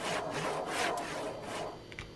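A handsaw mod in Farming Simulator 22 cuts through a tree trunk with several rasping back-and-forth strokes, close and fairly loud. The strokes thin out toward the end, with no voices.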